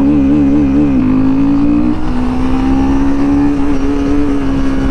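A Royal Enfield Himalayan 450 motorcycle engine drones steadily and loudly as it pulls toward top speed, its pitch holding high with a slight rise midway and wind noise underneath.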